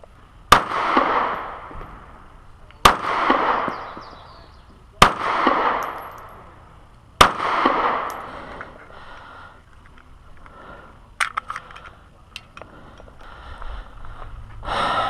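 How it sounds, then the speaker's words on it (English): A Zastava EZ9 pistol fires four loud, evenly spaced shots about two seconds apart, each a sharp crack with a ringing tail, followed by several fainter pops and clicks. "You put 4 or 5 shots in one hole."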